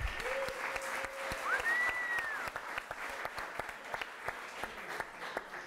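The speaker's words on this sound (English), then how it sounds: "Let's give it a round of applause here." Audience applause at a chef showdown competition evening, moderate steady clapping from a crowd, fairly distant and soft, with a short tonal whistle-like sound early on.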